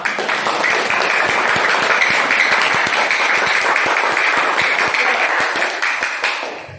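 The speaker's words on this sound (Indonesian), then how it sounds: "Beri aplaus untuk kita semua" A classroom of students applauds together for their teacher, a dense, steady burst of many hands clapping that runs loud and sustained before tapering off at the end.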